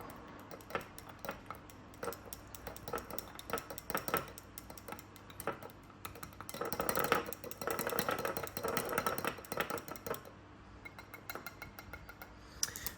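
A JBL aquarium water test sample with reagent drops being mixed in a small vial, making quick irregular ticking and clinking over a faint, steady background.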